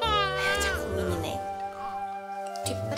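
An indoor house cat meows in drawn-out, wavering cries while having its claws clipped, one of four cats, close up with a person talking over it.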